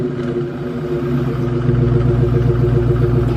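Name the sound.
Dodge Charger Scat Pack 392 Hemi engine startup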